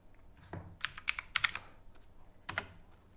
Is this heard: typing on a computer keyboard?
yes